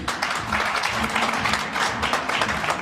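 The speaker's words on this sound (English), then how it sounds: "Round of applause, please." Steady applause from a crowd at a graduation ceremony, dense clapping continuing throughout at an even level.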